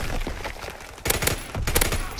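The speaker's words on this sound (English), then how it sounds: "he shot me through a wall" Gunshots in the video game Call of Duty WW2, a few sharp bursts of fire clustered in the second half over a steady loud background din, with no voices.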